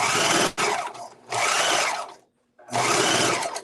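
A serger sewing machine runs in three loud, close bursts of rapid whirring stitching, separated by brief pauses, with one near-silent gap before the final run.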